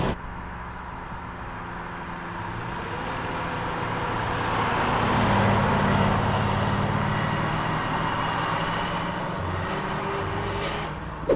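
A 1968 Dodge Charger R/T with a 440 V8 and four-speed manual cruising down a road, a steady broad engine drone that swells gently and then holds, heard from inside with no speech.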